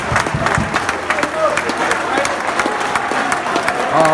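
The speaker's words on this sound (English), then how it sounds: "Now that's a round of applause after, isn't it?" Football crowd at a Weymouth versus Notts County match applauding as the players come out, loud close clapping mixed with cheers and crowd noise, with voices talking over it.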